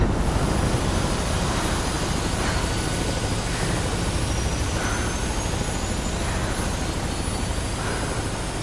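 Video game helicopter hovering overhead: a loud, continuous rotor drone with a steady rapid chop and engine whine, unbroken throughout with no voices.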